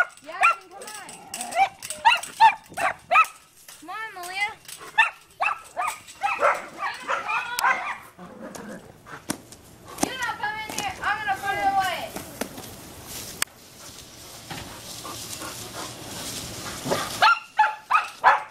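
Several puppies yip, bark and whimper in high-pitched bursts, close by, while people talk and count aloud over and between them.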